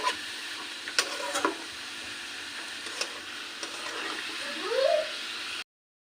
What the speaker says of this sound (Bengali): ভালোভাবে মিশিয়ে নিতে হবে, নাড়াচাড়া দিয়ে